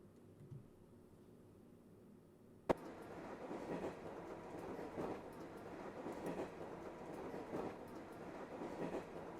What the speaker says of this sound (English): Stinking train noise.